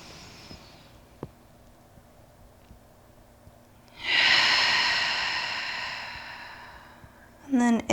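A long, deep breath drawn during a yoga pose, a broad airy rush lasting several seconds after a quiet stretch, close to the microphone, followed by a short voiced sound at the end.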